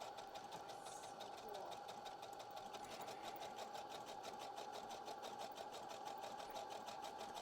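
A sewing machine stitches swimsuit fabric with its needle swinging back and forth, a steady, rapid mechanical whirring and ticking that runs evenly from start to finish.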